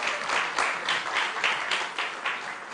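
Audience applause at a national youth parliament mock sitting in a parliamentary chamber, a steady dense wash of many hands clapping together, fairly loud and continuous with slight swells, no voices over it.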